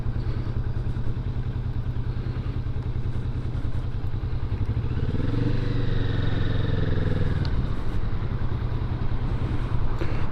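A Kawasaki Vulcan S motorcycle rides onto a highway, its engine pulsing in a steady low thrum that rises in pitch as it revs and accelerates midway, with wind noise throughout.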